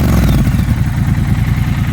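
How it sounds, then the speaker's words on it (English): A Triumph Scrambler 1200 XC motorcycle with an aftermarket exhaust and no catalytic converter runs nearby, its deep, loud, throbbing engine note pulsing without a break. "Triumph Scrambler 1200 XC with the aftermarket exhaust"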